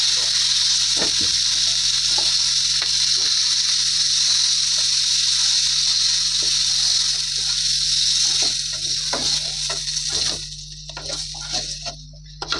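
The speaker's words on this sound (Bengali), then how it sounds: "আলু আর ফুলকপিগুলো ভালো করে ভাজা হয়ে গেছে" Potatoes and cauliflower fry in a pan of hot oil for Bengali cooking, giving a steady, close hissing sizzle broken by scattered small pops and crackles, with occasional stirring clatter toward the end.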